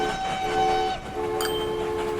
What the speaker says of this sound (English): So now we've got just trains going around, trains and trains.